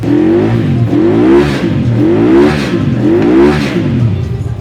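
A twin-cylinder motorcycle engine revs repeatedly in rising and falling surges at a motorcycle fair, loud and close, with a deep throaty pulse and no talking.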